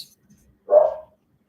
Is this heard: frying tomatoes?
no